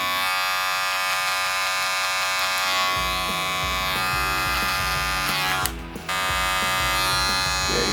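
Electric hair clippers buzz continuously and close during a haircut, with a brief interruption near the end before the hum resumes.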